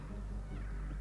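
A cat meows in the video game Stray, a single drawn-out, muffled cry sitting under a steady low hum of game ambience.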